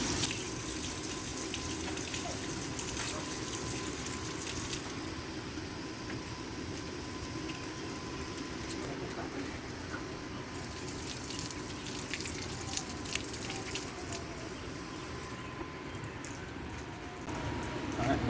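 A kitchen or bathroom tap runs steadily as soap is rinsed off hands at a sink, a constant close splashing flow that continues without a break.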